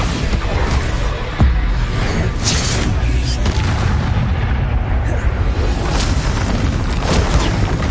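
Spell blasts and explosions from Hogwarts Legacy combat boom and crackle continuously, dense and loud throughout, with no clear pauses between impacts.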